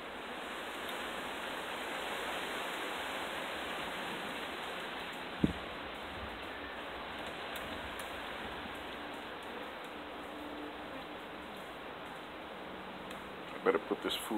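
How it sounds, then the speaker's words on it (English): Steady broadband hiss of rain falling continuously, with a couple of brief knocks partway through and near the end. "I hear the sound of rain."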